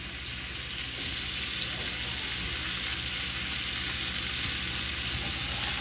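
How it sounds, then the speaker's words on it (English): Carrots roast in a hot pan, giving a steady, close sizzle and crackle of frying that runs unbroken and fairly loud from start to end, with no voices. "I'm making like citrus carrots right now. I'm just roasting them up."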